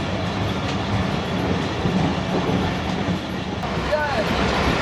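Inside the Karakoram Express passenger train on a flood diversion route, a loud, continuous rumble of wheels and carriage noise runs steadily with faint clattering, heard close from within the coach.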